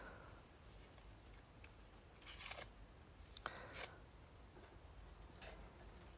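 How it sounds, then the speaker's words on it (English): Thin cardboard from a box and paper being torn by hand for fire kindling in a barn, with a few faint, brief ripping and crinkling bursts against a quiet background. "So I'm just breaking up some of the paper. It was actually cardboard, a little bit of cardboard from a box."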